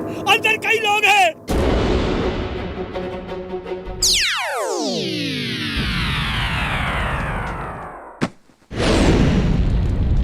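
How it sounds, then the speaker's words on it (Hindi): Cartoon explosions from a burning firecracker factory: a loud descending whistle followed by sustained booming blasts and rumbling, with bursts of sharp bangs near the start and end, loud and close. "पटाखों की फैक्ट्री में आग लग गई। फायर ब्रिगेड बुलाओ।"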